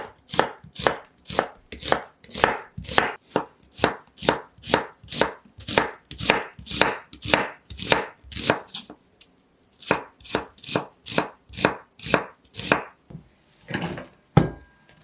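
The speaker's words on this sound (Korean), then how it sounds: "양파 1개는 채 썬 다음 냄비에 넣으세요." Rapid, steady knife chops slicing an onion strike a cutting board in a quick even rhythm, pausing briefly before resuming, close and crisp with no talking.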